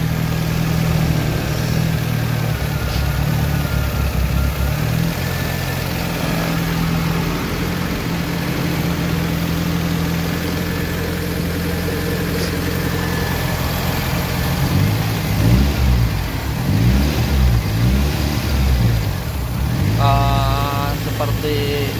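A fuel-injected car converted to run on LPG idles steadily, then its engine is revved in several surging pulses that rise and fall before settling, loud and continuous throughout.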